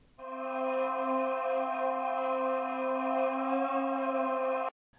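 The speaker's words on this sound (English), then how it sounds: "The first one is an atmosphere, and it's a dark ambience from the ImpactX preset pack" A dark ambience synthesizer pad from an industrial metalcore atmosphere preset swells in after a brief pause, holding a steady, rich drone of stacked tones for about four and a half seconds, then cuts off abruptly.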